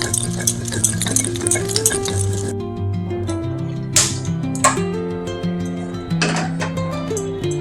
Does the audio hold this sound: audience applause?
no